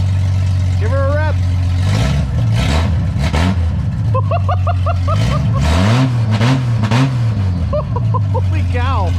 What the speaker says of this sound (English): turn on the Jeep, give it some rips